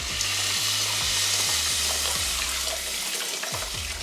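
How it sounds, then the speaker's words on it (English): Low-sodium vegetable stock poured into a pot of lentil squash soup, a steady liquid pour and bubbling splash running throughout without talk. "I'm gonna add the rest of that stock."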